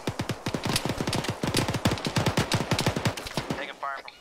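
Heavy gunfire rolls through a military video game in dense rapid bursts that sound like a machine gun, loud and close with almost no break. A voice comes in briefly at the end.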